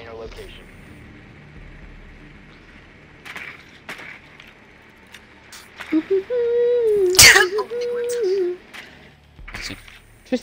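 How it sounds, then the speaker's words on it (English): A single loud, sharp sneeze bursts out midway through a Siege gaming session, standing clearly above the players' chatter and faint game noise around it. "your sneeze is so loud"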